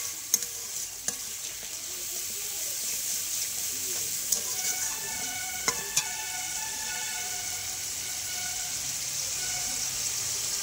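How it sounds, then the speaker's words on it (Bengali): A masala with green chillies and chopped tomato fries in a pan with a steady sizzle, and several sharp clicks and scrapes of a spoon stir it at irregular moments. "টমেটো কুচানো আর লঙ্কাটা দিয়ে আমি আর একটু নাড়াচাড়া করব।"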